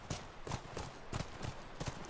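Steady clip-clop of horse hooves walking at an even pace over rough ground in the video game The Last of Us, soft and close, with no talking.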